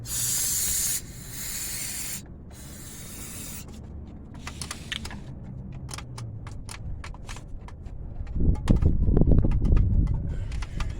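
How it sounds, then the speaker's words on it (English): Fluid Film lubricant sprayed from an aerosol can onto a 2005 Honda Civic LX wheel bearing in a parking lot: loud close hissing bursts at the start, then scattered clicks and a rougher spraying rush near the end. "I'll respray this with fluid film."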